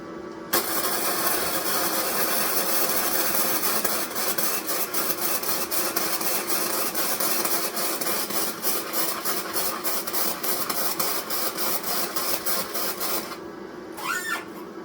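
A Tooliom MIG 180 PRO welder lays a bead with a steady, close, harsh crackling buzz. The arc pulses unevenly as the wire feeds, then cuts off near the end.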